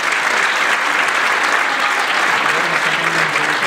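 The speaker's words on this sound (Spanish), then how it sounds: "tenéis a Toni de la Bandurria, un fuerte aplauso para él" Steady, dense applause from an audience at a presentation of a jota music album, a full crowd clapping continuously at close range with no talk over it.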